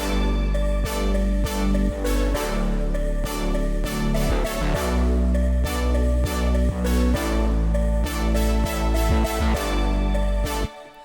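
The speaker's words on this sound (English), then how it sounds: "I want you to pay attention to this stab and then this little sweep on the way out" A looping electronic beat with punchy synth stabs over steady bass and drums, closing with a short sweeping swell as the pattern ends.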